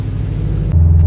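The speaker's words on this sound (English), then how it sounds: "gonna take it out for a test drive, see how it feels, make sure all the gears work" A car engine on a test drive drones loudly inside the cabin, a steady low rumble that shifts abruptly to a deeper, stronger tone partway through, as after a gear change.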